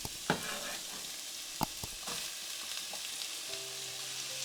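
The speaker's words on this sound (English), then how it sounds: "once the oil is nice and hot, I will add my chopped vegetables" Chopped soffritto vegetables sizzle in hot olive oil in a saucepan, a soft steady frying hiss broken by a few sharp clacks of a utensil and stirring scrapes, with a faint tonal hum late on.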